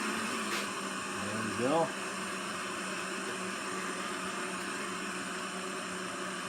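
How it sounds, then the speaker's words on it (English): A lit propane camping stove burner hisses steadily beneath an aluminum cup, a constant broadband roar running throughout, with a brief spoken remark near the start. "propane stove, it should boil pretty quick"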